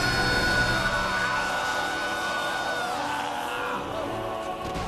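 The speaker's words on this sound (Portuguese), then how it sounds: "vai ser divertido ver o gnomo bardo gritando" A gnome bard character yells in the animated series The Legend of Vox Machina, a loud, sustained shouted voice over busy crowd-like noise for about five seconds.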